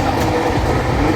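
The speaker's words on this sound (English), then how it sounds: "We are in the train right now." Loud, continuous low rumble of a moving train heard from inside a carriage, with a steady rattling drone.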